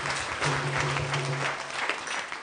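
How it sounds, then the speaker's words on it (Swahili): A church congregation claps together in steady, dense applause that carries on throughout, fairly even in loudness. "Pigia Yesu makofi"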